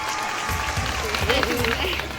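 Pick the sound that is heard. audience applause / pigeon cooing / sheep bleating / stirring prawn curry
audience applause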